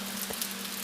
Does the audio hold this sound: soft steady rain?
yes